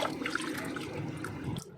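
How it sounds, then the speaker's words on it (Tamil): Water is poured onto washed rice set to soak for idli batter, a short, steady splashing and gurgling pour that is fairly close and moderately quiet, ending abruptly. "இப்போ நல்ல தண்ணி ஊற்றி ஊற வச்சிடலாம்"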